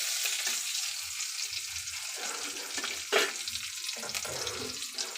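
Green chili frying in hot oil gives a continuous crackling sizzle, with a few sharper spits and pops breaking through now and then. No voices accompany it.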